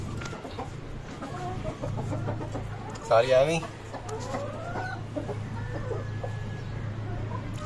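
Lohmann Brown hens cluck softly while drinking water in a backyard coop, with a burst of close clucking midway over a steady low hum; a person speaks briefly.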